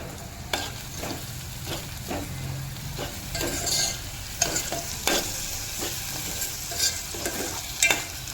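Vegetables with red and green chillies sizzle in a pan for pasta while a utensil stirs them, scraping and tapping at irregular intervals over the steady frying.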